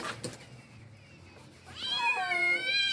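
A cat meows loudly and close, one drawn-out, rising cry in the second half after a stretch of quiet background rustling.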